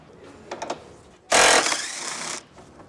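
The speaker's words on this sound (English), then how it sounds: "Beginning with the 13/16 socket, we're going to remove the bumper support strap nut." A 13/16 socket wrench works the bumper support strap nut on a Chevy/GMC 2500/3500 pickup. Soft clicks come first, then a loud, rapid mechanical whirring burst lasting about a second, followed by quieter handling.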